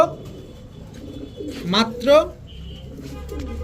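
Male and female Pakistani giribaz pigeons, a pair of tail-feathered brown-necked birds, give a couple of soft, rising cooing calls close by, one after another over a low background murmur.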